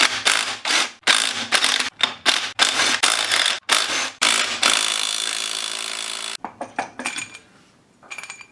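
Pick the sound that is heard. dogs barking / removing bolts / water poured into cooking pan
removing bolts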